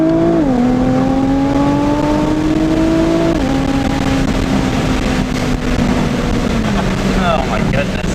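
A 2017 Nissan GT-R engine drops through downshifts, its drone stepping down in pitch at a couple of points, steady and close, with wind and road roar underneath and a voice talking over it.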